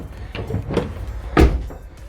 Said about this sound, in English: So the door opens fine.